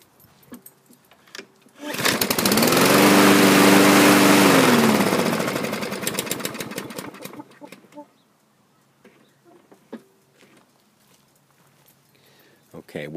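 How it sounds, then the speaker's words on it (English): A 2017 Husqvarna LC221A AWD lawn mower's small engine catches and runs loudly for a few seconds with a steady droning hum, then cuts out, leaving quiet clicks and handling noises. "I'll just try starting it now without pulling the linkage back and"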